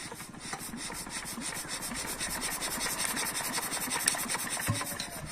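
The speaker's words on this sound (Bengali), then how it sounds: "মেশিনটা স্টার্ট দেওয়ার জন্য অনেক চেষ্টা করতেছে আমাদের বাতিজা" Small machine engine being cranked repeatedly and trying to start, giving a steady rhythmic rasping, scraping churn that carries on close and fairly loud without catching.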